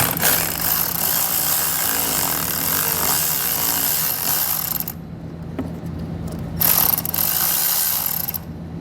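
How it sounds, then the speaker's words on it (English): Socket ratchet clicking steadily while loosening a nut on the positive battery terminal of a 2017 Ford Edge, close and continuous, with a brief pause before the clicking resumes. "we're going to take a socket here and remove this nut on the positive battery terminal"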